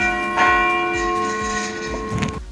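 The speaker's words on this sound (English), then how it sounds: "This bell is so heavy" A heavy church bell rings out loud and close, its sustained metallic tone humming steadily with a couple of fresh strikes swelling through the ringing.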